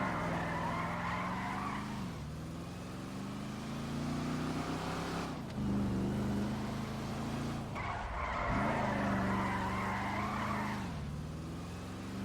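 A car in a racing video game slides through handbrake skids, long tire squeals over a revving engine that swells and dips in several waves.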